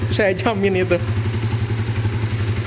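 A Honda CB150R motorcycle idles through a WRX GP3 full-system racing exhaust with a steady, low pulsing burble; a person speaks briefly over it at the start.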